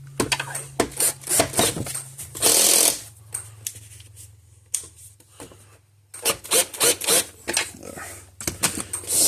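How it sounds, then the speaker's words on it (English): A power drill whirs in short bursts, one long run, then a quiet pause, then more quick bursts as it drives a stubborn screw into an electric fence energizer nearby. "Pull out the bigger drill."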